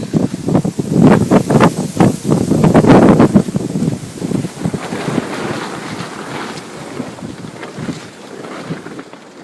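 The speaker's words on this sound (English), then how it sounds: "There's been a major windstorm all night." Strong gusts from a windstorm batter a Coleman WeatherMaster 6-person tent and its tarp, a loud roaring buffet with flapping fabric in the first few seconds that eases into a quieter rushing.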